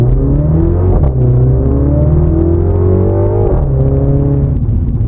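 MINI Cooper S JCW with an automatic gearbox accelerating hard, engine note climbing steadily through rising pitch with a quick shift break partway, loud and close with a continuous rumble underneath.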